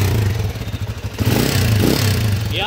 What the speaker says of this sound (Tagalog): So ayan yung issue niya, maingay makina.